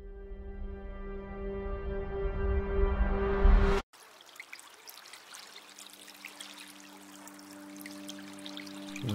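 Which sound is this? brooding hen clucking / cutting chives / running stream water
running stream water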